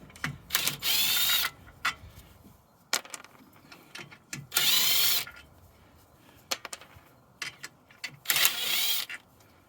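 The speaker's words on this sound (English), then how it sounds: "it's not advisable to use an impact gun on a locking wheel nut" Impact gun spinning car wheel nuts off during a wheel change, three loud sustained whirring bursts a few seconds apart, each followed by clinks and clatter of the loosened nuts, with no talking.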